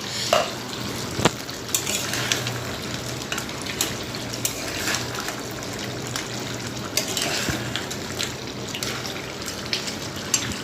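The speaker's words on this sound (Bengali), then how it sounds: "এখন আমি কাঁকড়াটা 4 থেকে 5 মিনিটের মতো খুব সুন্দর করে কাঁকড়াগুলো কষিয়ে নিব" Crab pieces sautéing in a pan, a steady close frying sizzle with scraping stirs and occasional utensil knocks throughout, no voices.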